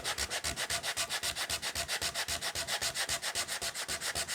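A guitar neck and headstock sanded by hand with 220 grit paper, a rapid, even back-and-forth rasping of about six strokes per second, close and continuous with no talk.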